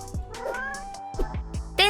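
A cat meows close by, a few short, rising mews in quick succession, with a louder, longer cry at the end.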